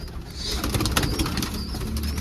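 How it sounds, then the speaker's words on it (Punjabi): Pigeons being chased out of their coop flap their wings in quick, repeated bursts close by, mixed with soft cooing and the shuffling of the birds. "ਕਬੂਤਰ ਆ ਗਏ ਸੀ ਅੰਦਰ ਇਹਨਾਂ ਨੂੰ ਕੱਢਦੀ ਹੈ ਬਾਹਰ"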